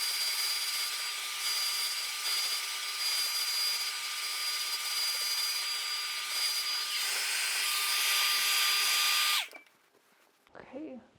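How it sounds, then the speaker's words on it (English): A hair dryer blows hair dry at the roots, a steady loud whine with a high tonal hum running for about nine seconds before cutting off abruptly, followed by brief faint rustling. "I'm going for a bit of a rough blow dry because I am going to straighten my hair after this anyway"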